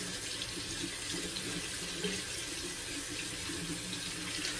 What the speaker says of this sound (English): letting the warm water come out